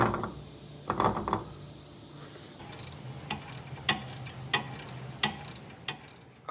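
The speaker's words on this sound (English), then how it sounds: "now I have an extension on a ratchet, which is taking off the shock absorber lower mounting bolt" A ratchet with an extension loosens the lower shock absorber mounting bolt on a Mitsubishi 3000GT/Dodge Stealth, with an uneven series of crisp, close clicks that grows quicker and denser toward the end.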